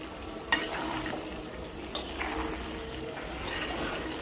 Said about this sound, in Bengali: ভালো করে নাড়াচাড়া দিব, দিয়ে আরও খানিকক্ষণ এখানে কষায় নিব।